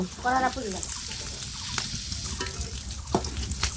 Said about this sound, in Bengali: চিংড়ি মাছটা ভাজা হয়ে গেছে তুলে নেব